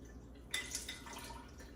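Liquid is poured through a fine mesh strainer, beginning with a sudden soft splash and settling into a faint, steady trickle under a quiet background hiss.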